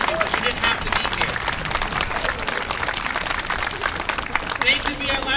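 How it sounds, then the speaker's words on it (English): A rally crowd at a protest against police brutality claps and cheers in a sustained, dense burst of applause, loud and close, with crowd noise mixed in throughout. "So you give yourselves a round of applause."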